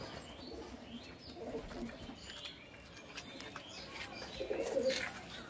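Teddy pigeons coo softly in a low, repeated murmur amid faint rustling and background noise, with one clearer coo toward the end.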